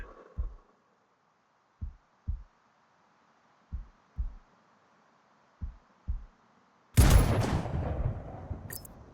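A sniper rifle shot at a target in the video game Sniper Ghost Warrior: after several soft, evenly spaced thumps like a slowed heartbeat, a single loud, sharp blast bursts out and trails off in a ringing decay.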